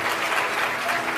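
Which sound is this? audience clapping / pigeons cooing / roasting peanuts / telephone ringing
audience clapping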